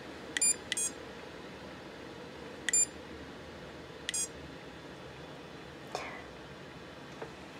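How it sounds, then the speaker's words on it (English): Short electronic beeps from a HoneyBee proximity switch used as assistive technology, sounding as the switch is activated and deactivated, several brief, faint chirps spaced apart over quiet room noise. "whenever this switch is activated or deactivated, we should hear a beep"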